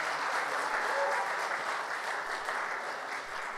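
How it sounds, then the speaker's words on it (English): A church congregation in a Baptist church claps for models, a steady, even wash of applause from many people that fades slightly toward the end. "Can I get a round of applause for the models?"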